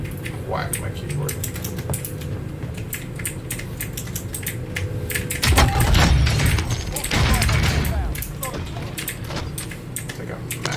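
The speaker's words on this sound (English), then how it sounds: "Whack my keyboard." Someone hammers hard on a computer keyboard, a rapid run of sharp, close clacks with a louder burst in the middle, while a person talks over it.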